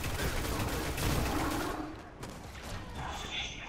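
Rapid gunfire from a weak gun in the video game Destiny, a dense burst of shots for the first couple of seconds, then sparser, quieter shooting with other game noise.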